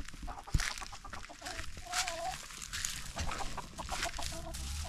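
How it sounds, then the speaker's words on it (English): A barred rock rooster clucks and calls in short, scattered bursts nearby, with other chicken sounds and faint background noise around it. "He's a good looking barred rock rooster."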